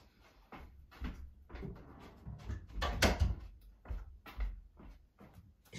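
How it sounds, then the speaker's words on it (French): Early in the morning indoors, a door is pushed shut with a series of soft knocks and rattles, the loudest thud near the middle, all at close range and without any talking. "je vais fermer la porte"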